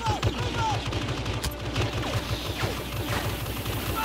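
An ion blaster fires in a Star Wars video game as a fast, steady stream of repeated shots that continues without a break over a dense background of game noise.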